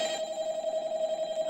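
A phone rings in the Minecraft version of the Five Nights at Freddy's game, a steady electronic ringing tone that holds evenly throughout, fairly faint and alone.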